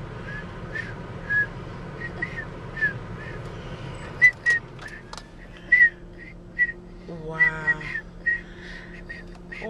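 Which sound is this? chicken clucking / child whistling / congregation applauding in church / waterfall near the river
child whistling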